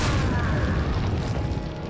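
A loud, dense burst from an explosion in the video game Resident Evil 4, broadband and sustained, filling the whole moment without voices.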